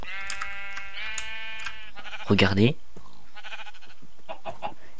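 A single loud, wavering sheep bleat from Minecraft rises between bits of spoken narration, with a short word spoken before it.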